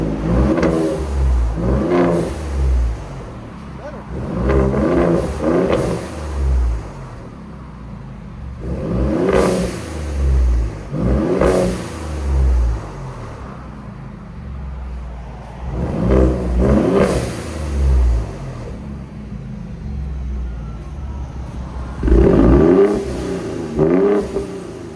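A 2019 Ford Raptor's 3.5L twin-turbo V6 revs hard in four repeated bursts, each climbing sharply and falling back to a rumbling idle, loud and close with no talking.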